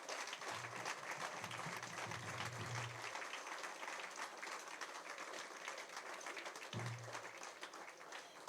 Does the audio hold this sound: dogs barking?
no